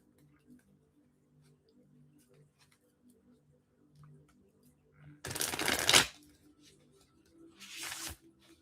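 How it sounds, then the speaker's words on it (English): Two brisk bursts of tarot card shuffling, the first longer, riffling crisply against a quiet background with faint soft sounds before. "Shuffle the cards."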